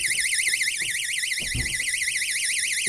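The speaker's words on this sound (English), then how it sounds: "And the alarm did go off." A cheap homemade water alarm built for a washing machine lint filter emits a continuous high warbling electronic tone, loud and close, over faint handling knocks.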